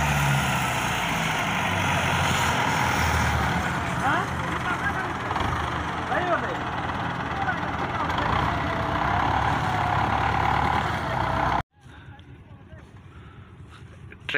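A Belarus 510 tractor strains to pull a fully loaded sugarcane trolley, its engine droning loud and steady for a long stretch before cutting off abruptly near the end, with people talking over the noise.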